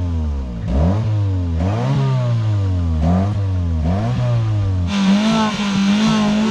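A car engine being started on a homemade nitrous setup, revving up and down in repeated surges before settling into a steady, higher idle, loud and close with no talk over it.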